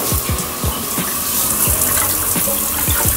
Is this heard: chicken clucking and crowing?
no